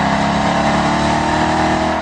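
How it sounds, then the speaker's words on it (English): A Ford Mustang 5.0 V8 muscle car engine holds a loud, steady rev close by, with a deep continuous roar and no pauses. "Its heavy V8 also makes the most sweet, caramely V8 noise of any car here, if not any muscle car ever."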